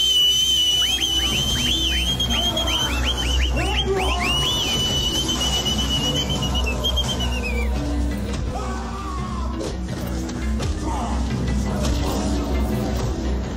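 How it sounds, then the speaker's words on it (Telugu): A person whistles a run of sharp, rising and falling finger whistles, loud and close, followed by a few shorter whistles amid background chatter and shouting. "విజిలేసుకోవచ్చా?"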